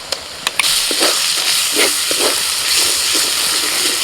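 Garlic paste frying with onion in a pan: a few clicks, then a loud, steady sizzling hiss that holds evenly throughout.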